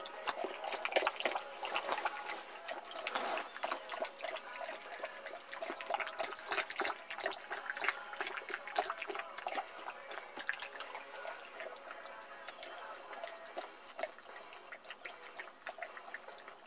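Water pours and trickles into a bowl for puppies, a fairly faint, busy splashing and dribbling that runs continuously with no talk.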